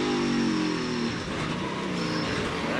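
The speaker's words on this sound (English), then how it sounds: "just trying to get the car slowed down, downshifting, and just got the back end bouncing up and down" An ARCA race car in practice on a road course downshifts as it slows, its engine blipping and revving loudly. The pitch drops and climbs with each gear change against a constant roar.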